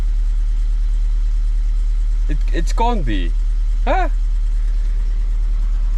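A used car's engine idles steadily, a low continuous rumble running throughout, with brief exclaiming voices partway through.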